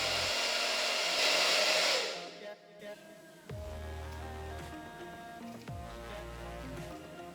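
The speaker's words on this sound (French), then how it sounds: "Je vais venir sécher tout ça à froid." A hair dryer on its cold setting blows onto a lace front wig cap, a loud steady whoosh that drops away, then returns as lower on-off bursts of airflow, close up with no voices.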